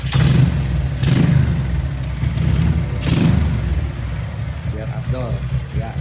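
A Honda Karisma 148 cc motorcycle with a bored-up engine and 56 mm piston idles close by in a steady, rumbling tone with a few brief swells. Speech is heard over it.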